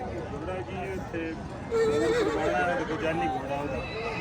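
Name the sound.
horse at a horse market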